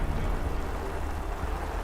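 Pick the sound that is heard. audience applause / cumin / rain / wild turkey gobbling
rain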